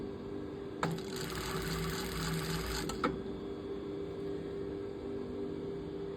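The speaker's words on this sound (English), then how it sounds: "we're going to sew up the front sleeve seam" A sewing machine runs one smooth burst of about two seconds while stitching a jacket's front sleeve seam, a steady whirring hum with a click at the start and end, fairly quiet against room tone.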